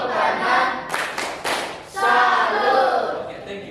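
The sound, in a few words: class clapping in a 'tepuk salut' clap routine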